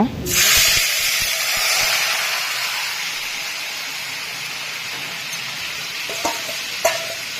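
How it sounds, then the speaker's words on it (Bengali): Marinated goat meat coated in spices hits a hot pan with a loud burst of sizzling, then settles into a steady, close hiss of frying, with a few soft clinks near the end. "এবারে দেব সমস্ত মশলা দিয়ে মাখিয়ে রাখা মাংস"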